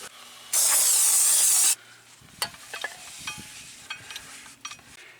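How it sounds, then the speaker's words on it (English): Brake cleaner sprayed onto a new front brake rotor of a Smart car to strip off its oil film, heard as one loud, close hiss lasting about a second, followed by light clicks and handling noises. "So we want to clean all of that oil off of there. Brake cleaner."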